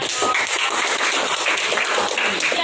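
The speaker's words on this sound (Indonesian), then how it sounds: "Kasih tepuk tangan buat" A group of students applauds in a classroom, giving dense, continuous clapping at close range that stays even and loud for a few seconds with no talking.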